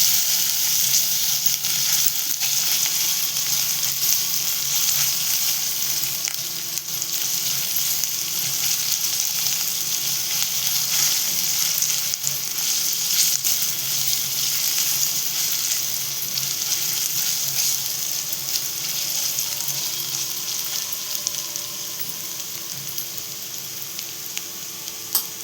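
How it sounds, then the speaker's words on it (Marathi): Chopped onion sautéing in a pan for a Marathi-style matki amti, a steady close sizzle and hiss running without a break, with faint stirring and no voices. "इथे तर आपण कांदा हे करून घेते, परतवून घेते."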